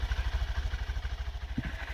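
A Honda CB125F motorcycle engine fitted with a Yuminashi high-compression piston, idling with a steady, fast, pulsing low thump, close by and on its own.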